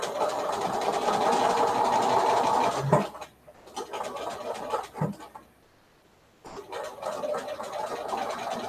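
A sewing machine runs a 1/8-inch tacking seam through a scrap quilt: a steady, close, loud whirring hum for about three seconds, then a few short stop-start bursts and a brief quiet gap before the motor runs steadily again.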